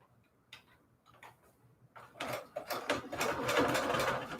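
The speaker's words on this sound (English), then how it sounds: "it's going to get sewn together right now" A sewing machine stitching paper scraps together into a junk journal pocket: faint ticking at first, then a loud, steady, rapid mechanical whir of stitching that builds and runs to the end.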